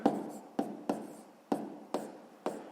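Writing strokes on a board or paper during a sixth-grade maths lesson, a series of about six sharp scratchy strokes at a steady rhythm, close and clear with no talking.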